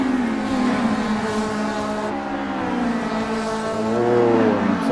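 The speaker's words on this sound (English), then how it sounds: "You just hear the tyres squealing there." Racing cars in a GT racing video game roar steadily with engine drones and a high tyre squeal under late braking, dense and continuous motorsport noise throughout.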